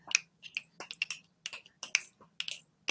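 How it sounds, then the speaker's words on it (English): A steady run of crisp finger snaps comes close to the microphone, a dozen or so sharp clicks at an uneven, quick rhythm with only a faint low hum behind them. "So finger snap on that"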